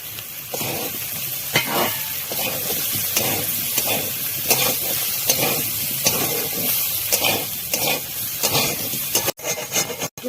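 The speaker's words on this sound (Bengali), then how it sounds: "এই যে কত কাঁচা লঙ্কা দিয়ে দিলাম বন্ধুরা একটু শুকনো লঙ্কার গুঁড়ি দিয়ে দেবো" Green chillies and dry chilli powder frying in a pan, loud continuous hissing sizzle with rhythmic stirring scrapes repeating every second or so, close and steady throughout with no talking.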